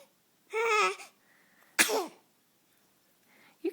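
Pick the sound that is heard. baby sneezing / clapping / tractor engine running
baby sneezing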